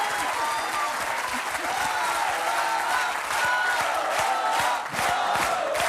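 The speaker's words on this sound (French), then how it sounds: "Brigitte Bardot, ça vous fait quoi d'être applaudie?" A TV studio audience applauding Brigitte Bardot, dense sustained clapping with scattered cheers and whoops, loud and continuous for several seconds with a brief dip near the end.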